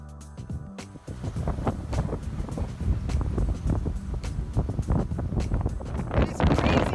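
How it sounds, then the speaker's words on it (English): Strong gusty wind at Cape Meares on the Oregon coast buffeting the microphone, a continuous low rumble with irregular thumps and a rising rush near the end. "It's crazy windy here at Cape Meares"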